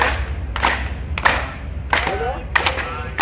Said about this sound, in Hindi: इनको ऐसे ताली बजाओ।